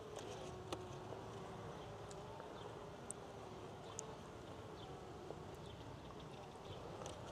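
Honey bees hum softly at an occupied hive, a faint continuous buzz dotted with brief clicks and flits, with no voices.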